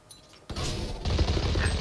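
Gunfire in a multiplayer shooter video game, a sudden sharp onset followed by a rapid, loud burst of overlapping shots close by, with no talk.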